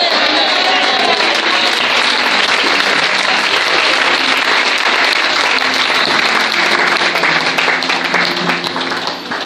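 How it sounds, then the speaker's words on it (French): A church congregation breaks into loud, sustained applause, dense clapping from many hands filling the hall for several seconds, with voices mixed faintly underneath. "il faut acclamer"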